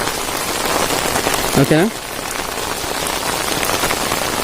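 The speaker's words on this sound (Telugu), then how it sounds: "ఇప్పుడు వర్షం పెద్ద అయిపోయింది, మనం ఇలా ఉన్నాం ఇప్పుడు పరిస్థితి." Heavy rain drums steadily on an umbrella outdoors during the rainy season, a dense continuous patter with a brief voice speaking over it partway through.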